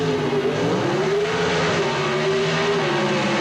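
Pro Stock drag race cars, a 1979 Plymouth Arrow and a Chevy Camaro, roar in a loud, sustained engine drone with a steady pitch that wavers slightly as they run down the strip.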